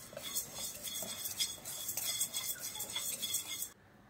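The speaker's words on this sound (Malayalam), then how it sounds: "ഈ എടുത്ത മസാലകളൊക്കെ അതിലേക്ക് ഇട്ട് കൊടുക്കാം. നന്നായിട്ടൊന്ന് റോസ്റ്റ് ചെയ്തെടുക്കാം." Spices for mutton vindaloo being roasted and stirred in a non-stick pan, with a steady run of scraping and light clinking from a utensil against the pan, close and fairly quiet, ending abruptly.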